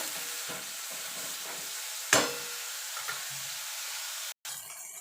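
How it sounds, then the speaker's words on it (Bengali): Eggplant seasoned with salt and turmeric fries in a pan, a steady close sizzle broken by a sharp spatula scrape or clatter midway and a few quieter stirring knocks. "দিয়ে বেগুনটাকে একটু ভাজা ভাজা করে নেব"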